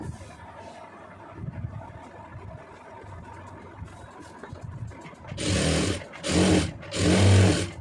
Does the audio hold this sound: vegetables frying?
no